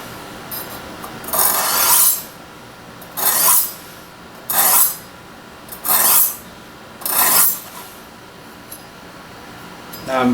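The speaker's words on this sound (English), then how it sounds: "all we're going to do is clean that burr off a little bit" A knife blade strokes along Spyderco Sharpmaker diamond rods in a steady rasping rhythm, with five or six even scrapes about a second apart, close and clear with no talk.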